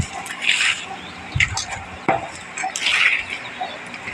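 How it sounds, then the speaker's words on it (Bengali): Mangoes being rinsed in water, with splashing, dripping and occasional knocks against a bowl in uneven bursts close by. "ততক্ষণে এদিকে আমগুলোকে ভালো করে ধুয়ে নেবো"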